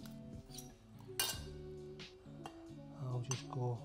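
A metal spoon shaping piperade into a quenelle, several light clinks and taps against a dish, close and quiet, under a steady background tone.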